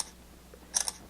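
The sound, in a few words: Samsung Galaxy S5 smartphone camera shutter sound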